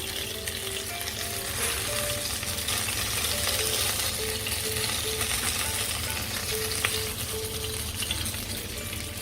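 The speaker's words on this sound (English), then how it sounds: "let's put the next 3 pieces also in there" Pieces of fish fry steadily in hot oil, a dense continuous sizzle with faint crackles and pops, close and fairly loud, with no talk.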